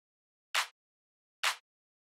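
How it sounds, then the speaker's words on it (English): Two short, bright, isolated hits of a layered kick drum sample from a trance drum loop, evenly spaced about a second apart with silence between them. "I've got layered 2 kicks, so one kick sounds like this."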